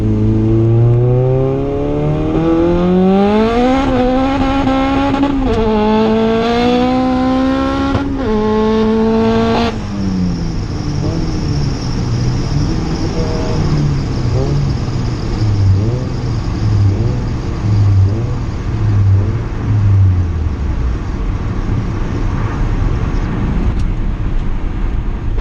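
A turbo Honda Civic GSR does a street pull from second gear, the engine climbing hard through several rising pulls with quick breaks between shifts, then settling into a lower, uneven drone with road and turbo hiss.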